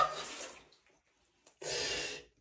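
A Tushy Classic 3.0 bidet's spray nozzle shoots water in two bursts, a half-second hiss at the start and a louder, steadier spray near the end, with a quiet gap between them.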